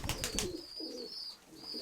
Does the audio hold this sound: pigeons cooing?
yes